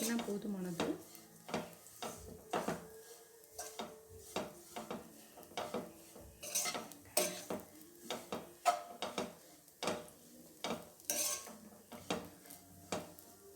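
Bread pieces sautéed and stirred in a pan for bread halwa, with a steady run of close spatula scrapes and metallic clinks against the pan at a fairly regular rhythm, and no talking.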